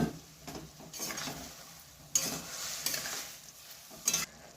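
Small fish frying in a pan with mustard paste, stirred repeatedly: scraping strokes over a steady sizzle, with louder bursts of stirring at intervals, close and without talk.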